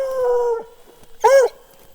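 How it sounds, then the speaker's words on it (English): A dog gives two drawn-out whining howls, the first long and steady, the second a short rising-falling yelp, close by with a quiet pause between them; a person is trying to hush it. "No barking."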